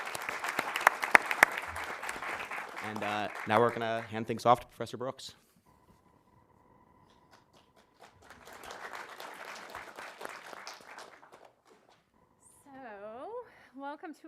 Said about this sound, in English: One last round of applause for all of them now.